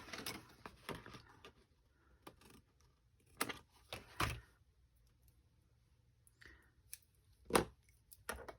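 Scissors snip through vellum card paper for a handmade card, a series of short, crisp cuts at an uneven pace with quiet pauses between, close and fairly soft.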